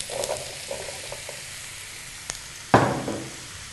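Chopped potatoes land in a hot pan of frying onions and green chillies for an Indian potato cabbage curry, a loud close sizzle bursting up after a few faint clinks and light stirring sounds.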